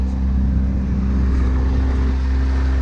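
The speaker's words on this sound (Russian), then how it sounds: "Смотрели, как отрабатывает система Traction Control. Она все два колеса передние заставляет крутиться." A Chrysler 200 creeping uphill while its traction control works, both front wheels spinning: a loud, steady engine drone held at an even pitch for the whole stretch, with no talking.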